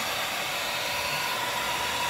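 A 1500-watt heat gun blows hot air in a constant, even roar close to the microphone, with no pauses or voices.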